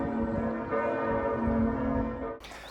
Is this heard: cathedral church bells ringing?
yes